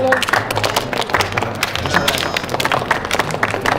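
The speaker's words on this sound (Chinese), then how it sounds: "大家给那个掌声！" Classmates in a school classroom applaud together, a dense, steady patter of many hands clapping at close range that continues throughout with no pause.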